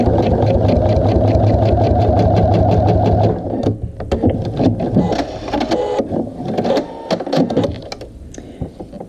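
A home sewing machine stitching a sample piece while it fails to catch the bobbin thread: a fast, even mechanical whirr for several seconds, then stuttering bursts of clatter and short runs of stitching.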